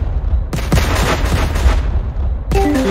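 A loud, booming Minecraft explosion rumbles for over a second, followed shortly by another burst. Both are heavy and close, with no clear talking over them.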